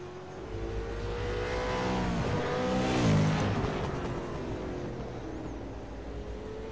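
Race car engines roar around the short oval at South Boston during an Outlaw Enduro, several cars passing close with rising and falling revs and a loud swell near the middle.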